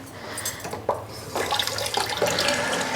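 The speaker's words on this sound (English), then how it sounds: "And then what I'll do is I will run some warm water" Warm water runs from a tap into a sink or container, a close, moderately loud gushing stream that starts gently and grows fuller over a few seconds, with no talking.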